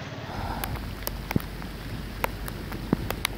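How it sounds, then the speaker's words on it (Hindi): Rain falling steadily as a soft, even hiss, with a few sharp drips or taps standing out here and there. "सुबह से गरज चमक के साथ बारिश और झालाबारी का सिलसिला जारी है।"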